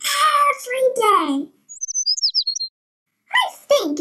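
Short bright bird chirps flutter in a quick run of about seven tweets, faint and high, between stretches of a child-like voice talking before and after.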